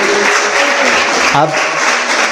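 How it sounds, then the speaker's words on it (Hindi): Children in a youth yoga session applaud together, a steady wash of clapping throughout the short moment with a voice briefly audible over it. "ताली बजाओ हमारे लॉर्ड शिवा के लिए"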